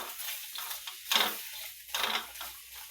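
Okra (bhindi) roasting in a pan gives a soft close sizzle with scraping stirs and two louder swells, no voices.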